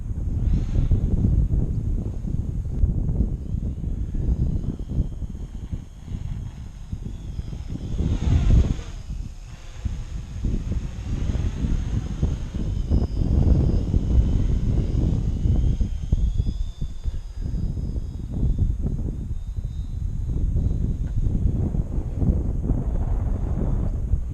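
Drone flying during an altitude hold and return-to-home test, a loud continuous rotor drone with wind buffeting on the microphone, swelling and easing as it climbs and moves.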